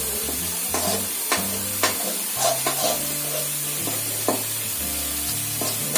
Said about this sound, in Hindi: जब तक प्याज ब्राउन ना हो जाए, सुनहरा कलर ना आ जाए